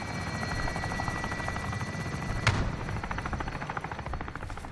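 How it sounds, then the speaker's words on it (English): A friendly VTOL aircraft in Call of Duty: Modern Warfare hovers overhead, giving a steady rotor-like thrum with a rapid pulsing beat, while a sharp distant crack of gunfire cuts through midway. "Friendly VTOL on station for Overwatch."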